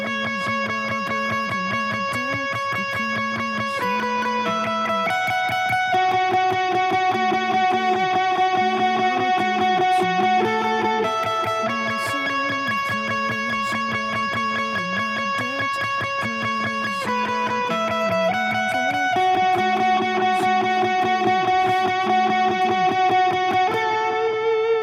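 Slow electric guitar lead line from a worship song, played at half speed with effects, sustained harmonic-rich notes moving in a steady melodic phrase, loud and alone without talk.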